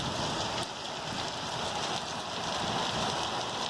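Hard, steady downpour from a pop-up afternoon thunderstorm in Green Valley, a dense continuous hiss of rain pounding surfaces nearby without letup, no voices.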